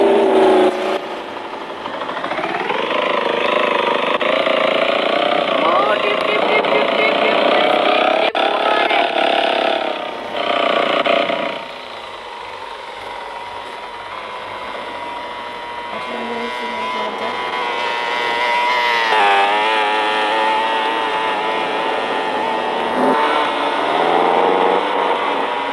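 A motorbike engine in the Roblox game Bike Tycoon drones loudly and steadily, revving up and climbing in pitch, dipping back, then rising again later.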